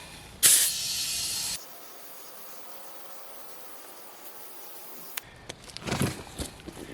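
An air hose fed from a big compressor blows air into a tubeless riding mower tire: a loud, close burst of hissing air for about a second, then a faint steady hiss, followed by clunks and handling noises.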